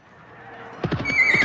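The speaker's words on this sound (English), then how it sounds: "The Muslim army rode their horses to the location of Banu Autas." Horses neigh and whinny loudly and close by as an army rides, the sharp calls rising over faint hoof clatter after a quiet start.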